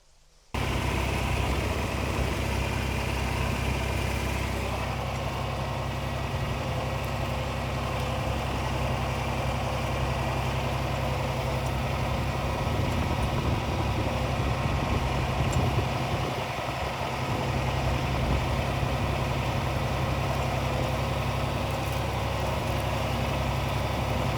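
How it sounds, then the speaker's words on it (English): A tractor engine runs continuously while plowing a field for sweet corn, a steady, loud, close mechanical drone with rumbling vibration throughout. "let's just keep running the tractor and plowing."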